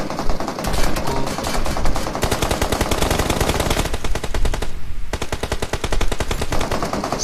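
Sustained automatic gunfire spraying in a PUBG Mobile esports finals match, rapid, loud and continuous for several seconds, with one brief dip in the middle.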